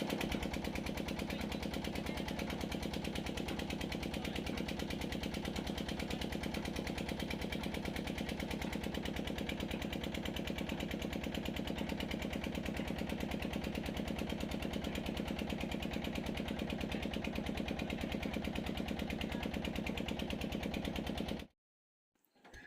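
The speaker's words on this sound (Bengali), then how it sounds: "এই যে বড় বোটটা দেখতে পাচ্ছ এটা হচ্ছে মোল্লাখালির বোট" A ferry boat's engine running at a river jetty, a steady, droning low hum that holds constant for the whole stretch before cutting out abruptly at the very end.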